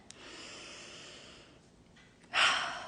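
A single deep breath drawn in slowly and audibly through the nose, close and quiet, followed by a brief breathy exhale near the end.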